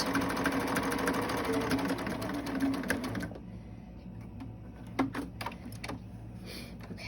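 A sewing machine stitches a fabric medical mask, running in a fast close whir for about three seconds, then stopping, followed by quieter handling clicks and taps.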